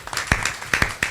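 Scattered hand claps at a boxing press conference for Roy Jones and Joe Calzaghe, a few sharp separate slaps spread over a second, sparse and thin rather than a full ovation.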